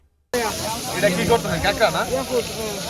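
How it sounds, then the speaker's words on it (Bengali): Coral fish fries in hot oil at a beachside stall on Cox's Bazar beach, a loud, close, continuous sizzle and hiss that starts abruptly, with voices talking over it. "এদিক দিয়ে আমাদের কোরাল মাছটি ফ্রাই হচ্ছে"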